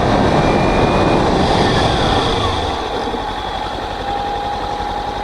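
A 2021 Kawasaki Ninja 300 BS6 motorcycle accelerates hard from a standstill toward 60 for a brake test on an open road. Its engine and wind roar stay loud and steady, easing slightly partway through.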